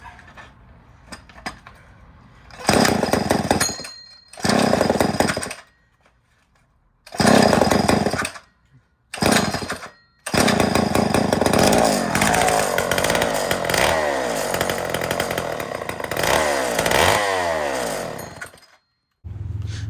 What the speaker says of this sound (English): my kid's gonna fire up this chainsaw he got yesterday